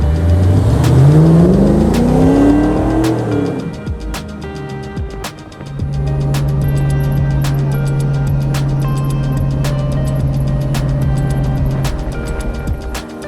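Custom Land Rover Defender 90 with a GM 5.3-liter V8 revving up loudly, then settling to a steady idle, with a rumbling engine note throughout and a brief clatter as the revs drop.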